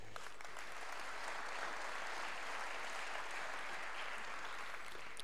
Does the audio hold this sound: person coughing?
no